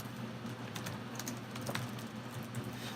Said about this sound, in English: if I can continue typing here